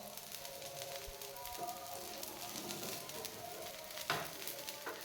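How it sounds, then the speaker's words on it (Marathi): A masala dosa fries in oil on a hot griddle, giving a steady, gentle sizzle and crackle throughout, with a faint scrape or tap near the end. "आता 2 मिनिट एका बाजूने हा डोसा भाजून घेऊया"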